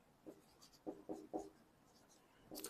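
Chalk or marker writing numbers on a board during a maths lesson, a few short soft scratchy strokes spaced apart, faint and close in a quiet room.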